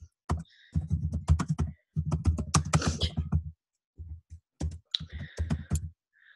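Bursts of rapid typing on a computer keyboard, close and crisp clattering keystrokes in several runs with short pauses between, the last run fainter and more sparse.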